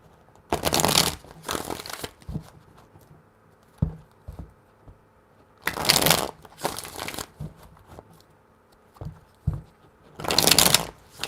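Tarot cards are shuffled in three separate bursts of crisp riffling, each lasting about a second and a half, with quiet gaps and small taps between them, close and without speech.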